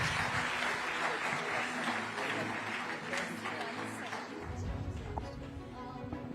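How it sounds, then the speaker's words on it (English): Audience applause at a fintech conference in India, sustained dense clapping from a large crowd throughout, with a speaker's voice rising over it toward the end. "big round of applause for Mr."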